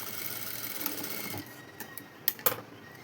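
A sewing machine runs steadily up close while stitching the lining of a puff sleeve, then stops, leaving a few light clicks and handling knocks.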